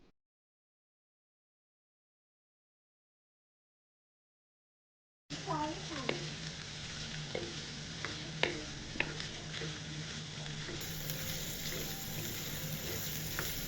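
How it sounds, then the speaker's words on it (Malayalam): Onions sauté in oil in a frying pan for beef varattiyathu, a steady moderate sizzle with occasional clicks of stirring that starts after several seconds of silence. "എണ്ണ ഒഴിച്ചിട്ട് ചീനച്ചട്ടിയിലോട്ട് ഉള്ളി ഇട്ട് വഴറ്റണം ആദ്യം."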